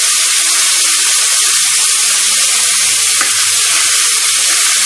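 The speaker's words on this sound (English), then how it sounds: "we're adding our beef in, our olive oil. We're going to just let that sear." Beef sears in olive oil in a skillet, a loud, dense, continuous hiss and crackle of hot fat close up, with no voices.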